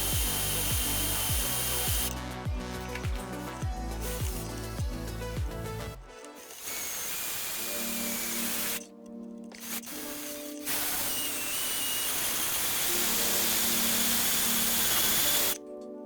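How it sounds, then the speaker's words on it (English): Power drill boring out spot welds on the front end of a BMW E30 body, a loud, steady whirring grind with shifting tones that breaks off briefly in a couple of places before resuming. "me drilling out these spot welds"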